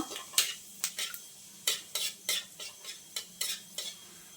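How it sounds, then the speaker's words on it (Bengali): A spoon scrapes and clinks against a pan while whole cumin seeds are stirred in hot oil for tempering, about a dozen sharp metallic strokes in a quick irregular rhythm over a faint sizzle. "ফোড়নটা একটু নাড়াচাড়া করে নেব"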